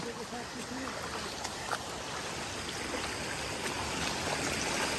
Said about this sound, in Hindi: इतना पानी जो है वो न जाने कहाँ से आ रहा है